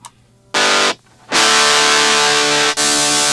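Electric guitar through a LEKATO Cube Baby multi-effects pedal with amp modelling and spring reverb, playing two loud distorted strummed chords separated by a short pause, sustained and ringing with a brief cut before the end.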